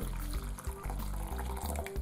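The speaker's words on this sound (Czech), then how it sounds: "zalejem to horkou vodou." Hot water poured into an MRE meal pouch, a continuous splashing, gurgling liquid stream for about two seconds, close and fairly loud.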